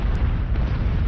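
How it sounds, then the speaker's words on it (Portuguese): Mount Vesuvius erupting above Pompeii, a loud, deep, sustained explosive roar with rumbling low end filling the whole moment, no voices. "O primeiro sinal para os habitantes de Pompeia teria sido a explosão na própria montanha"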